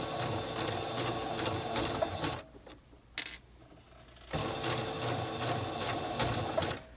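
A sewing machine stitches a blind hem on fabric in steady rapid runs, pausing for about two seconds midway with a couple of clicks before the loud stitching resumes.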